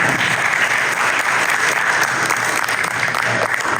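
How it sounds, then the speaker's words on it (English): Steady, loud audience applause at the AVI Conference 2024, a dense wash of many hands clapping that holds evenly for several seconds with no voices standing out. "If everybody would give them a round of applause."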